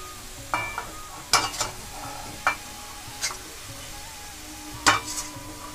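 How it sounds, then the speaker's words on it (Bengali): A coconut and jaggery filling for puli pitha is stirred in a pan, giving a few sharp scraping strokes at irregular intervals over a soft sizzle. "তো আর একটুখানি নাড়াচাড়া করে আমি তারপরে নারকেলের ছেইটা নামিয়ে নেব।"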